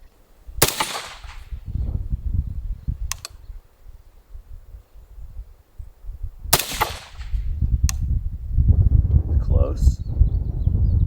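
Two rifle shots from a PSA M110-style rifle crack out several seconds apart at a 10-inch steel target, each a sharp close report, over steady wind noise, with a faint distant ring after the second.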